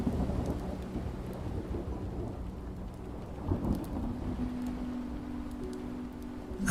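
A thunderstorm with rain over a coastal bay, a steady low rumble of thunder beneath a soft wash of rainfall that swells briefly partway through, fairly distant and calm, with no voices.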